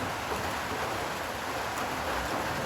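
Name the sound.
rain falling on a tin roof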